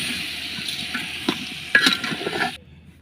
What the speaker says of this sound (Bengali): চালটা ঢেলে দিই এখন।